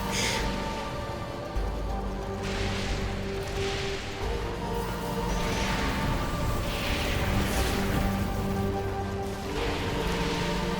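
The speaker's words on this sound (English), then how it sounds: "It's raining out there." Steady rain hisses continuously in the video game Metroid Prime 4: Beyond, alongside a low, droning background score, with occasional louder swells of downpour.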